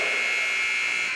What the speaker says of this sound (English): Berkeley Williams with a key shot at the buzzer